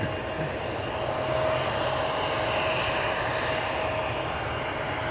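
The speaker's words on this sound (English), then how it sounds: "EasyJet A320 to Bristol" An easyJet Airbus A320 jet takes off from Schiphol's Polderbaan runway, its engines a loud, steady roar with a thin whining tone running through it, holding constant for the whole stretch with no voices.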